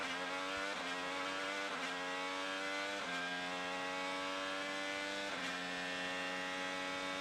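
An IndyCar race car engine screams at high revs during a 2024 open test session, accelerating in rising sweeps with brief dips at upshifts, heard steady and fairly distant with no talk.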